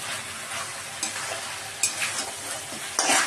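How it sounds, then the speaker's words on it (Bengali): A chicken stew with turmeric and chopped green chillies is stirred in a pan over a continuous sizzle, the spoon scraping in a few louder strokes; no talking. "একটু নেড়ে চেড়ে নেব।"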